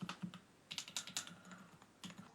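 Typing on an MSI gaming keyboard with Kailh silent switches, soft muted keystrokes in quick irregular bursts, very quiet and close, no talking.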